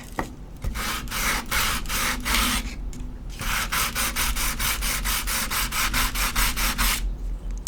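Coarse sandpaper rubs back and forth across a ceramic coaster in quick, steady strokes, close and loud, with a brief pause partway through before the rhythmic scraping resumes.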